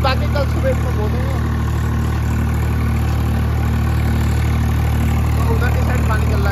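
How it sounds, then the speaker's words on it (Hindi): A Swaraj 744 tractor runs in a freshly ploughed field with its steady, loud, close engine drone holding an even low rumble throughout. "आप देख सकते हैं कितना बढ़िया चल रहा है ट्रैक्टर"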